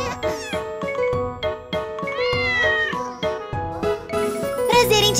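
An orange cartoon cat meows in an animated children's song, with a voice imitating a string of sung meows over bright musical accompaniment. The meows sound loud and close.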